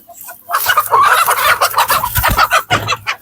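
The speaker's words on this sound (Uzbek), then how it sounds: "qichqirib turgan xiroza ham" An Andijan black rooster calls loudly and close by in a poultry yard, a burst of harsh crowing and clucking lasting a few seconds.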